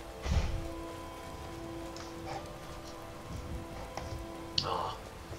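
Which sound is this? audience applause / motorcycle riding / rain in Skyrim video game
rain in Skyrim video game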